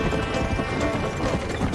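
Horses pulling a carriage gallop in a race in the Red Dead Redemption video game, a rapid, dense patter of hoofbeats with wheel rumble underneath, steady and close.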